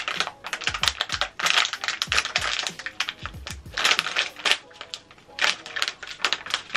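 A foil mystery surprise toy package is peeled open close up with a run of sharp crinkling, crackling bursts in uneven rhythm, separated by brief pauses.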